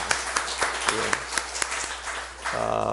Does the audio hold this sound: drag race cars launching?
no